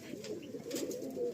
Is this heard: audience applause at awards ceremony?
no